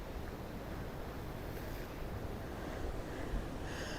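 Waves crash against a rocky breakwater at Nobby's at sunrise, a continuous loud wash of surf with a steady roar and no pauses, heard alone without talk.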